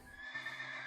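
A horse in the Minecraft video game gives a short, bright whinny, close and clear, lasting under a second, with no talk over it.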